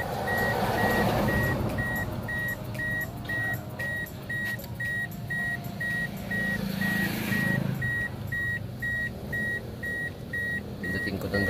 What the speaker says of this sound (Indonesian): So, tumunog ng konti yung buzzer ko.